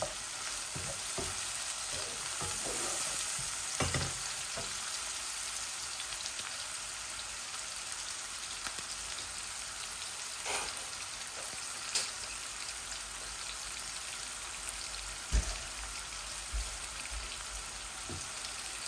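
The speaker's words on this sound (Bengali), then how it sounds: "ডাইলের মধ্যে বলক আসছে" A pot of lentil dal coming to a boil, a steady soft hiss with scattered bubbling pops, close and fairly quiet with no talking.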